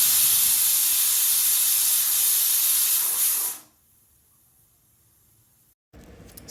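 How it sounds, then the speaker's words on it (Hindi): A pressure cooker of black chickpeas in a home kitchen releases its steam in a loud, steady hiss for a few seconds, then cuts off abruptly into near silence before a brief clatter. "जब तक उसकी गैस रिलीज़ होती"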